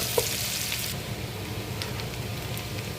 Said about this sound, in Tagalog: Sibuyas, bawang. Gisa-gisa muna tayo.